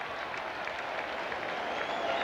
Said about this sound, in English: Big Texas crowd on hand once again, and they loving this kid